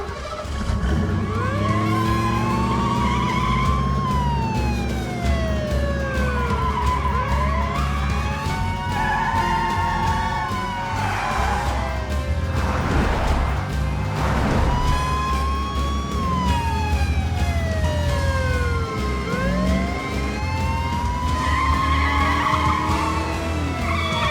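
A runaway car, driven only by a small child, skids loudly on pavement amid wailing emergency sirens that rise and fall. Engine roar and screeching tyres dominate throughout.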